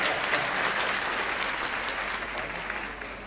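Lecture-hall audience clapping for a guest speaker on work ethics: sustained, dense applause from a crowd, holding steady before easing slightly toward the end, with no voices over it.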